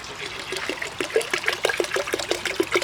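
Water pours from a bottle into a bucket being filled for a pet albino clown knifefish, a steady trickling splash with rhythmic glugging bursts, close and moderately loud.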